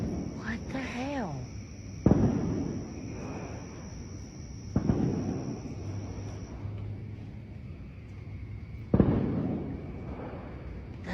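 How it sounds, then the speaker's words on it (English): Several sharp, distant booms pop at intervals, with voices talking and a whistling tone over a constant background hum. "It sound like fireworks"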